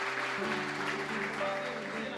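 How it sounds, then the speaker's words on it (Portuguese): A church congregation claps together, a soft, diffuse patter of many hands beneath a sustained organ or keyboard tone, with a voice faintly present. "aplaudir a Jesus pela vida deles."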